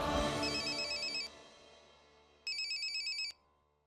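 A phone ringtone sounds in two short electronic bursts separated by a pause, with a louder decaying musical sting at the start and no talk.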